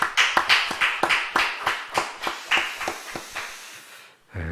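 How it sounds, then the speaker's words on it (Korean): A church congregation claps about a dozen times at a Friday late-night prayer meeting, quick and loud at first, then thinning out before a sudden louder noise at the end. No voices. "우리 하나님께 영광의 박수 한번 올려드리겠습니다"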